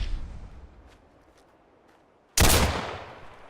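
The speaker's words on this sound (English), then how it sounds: "I hear gunfire." A raider opens fire in Fallout 4: after a quiet stretch, a sudden loud burst of gunfire crashes in and rings on to the end.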